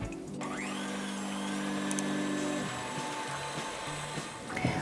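Electric hand mixer whirring steadily through softened cream cheese, sweetener and vanilla, its motor pitch shifting as the beaters work, then slowing and stopping with a small clatter at the end.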